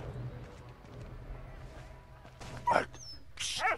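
In the Valiant Hearts video game, a dog gives faint whimpers and short yips, quiet at first, then a couple of brief, higher cries near the end, with a voice speaking lightly alongside.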